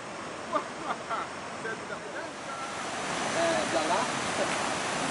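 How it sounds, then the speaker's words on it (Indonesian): Broad, steady rushing of clear river water where a tributary meets the main river at its mouth, an outdoor stream scene with a constant wash that swells slightly louder in the second half, with faint voices now and then. "Ini adalah muara ya, antara muara pertemuan air manca dengan batang sungai air Haji"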